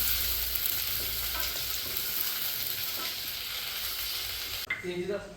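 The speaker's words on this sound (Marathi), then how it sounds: "एक चमचा आलं लसूण घालून घ्यायचं आहे यामध्ये आणि चांगलं परतून घ्यायचं यामध्ये" Ginger-garlic paste sautéing in oil for mutton pickle, a steady dense sizzle filling the pan, close and loud, with a brief stir near the end as the frying hiss drops.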